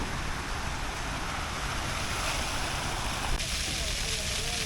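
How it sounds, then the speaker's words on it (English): Water splashes steadily in a Poseidon statue fountain in Alameda Park, Mexico City, a dense, continuous rushing hiss that fills the whole stretch at close range with no break. "And another fountain"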